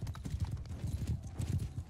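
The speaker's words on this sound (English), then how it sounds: "Ooh, horse." Horses gallop in the Mount & Blade II: Bannerlord battle game, a quick, rhythmic clip-clop of hooves heard faintly and continuously over a short stretch.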